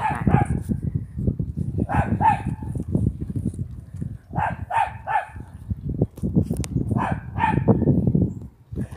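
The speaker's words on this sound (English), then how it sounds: "Look at this annoying little dog. It barks at its own house." A small dog barks repeatedly at its own house outdoors in Pennsylvania, sharp close yaps in uneven bursts over steady background noise.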